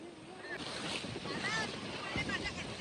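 Sea waves wash onto a beach under steady, gusty wind, a continuous surging roar with wind buffeting the microphone throughout.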